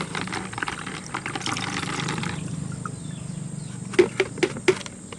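Soaked watermelon seeds drain as water trickles and pours off them steadily, then a few brief distinct drips and taps follow near the end, quiet and close with no talk.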